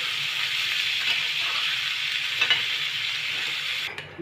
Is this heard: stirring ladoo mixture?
yes